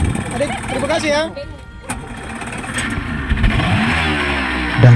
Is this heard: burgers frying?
no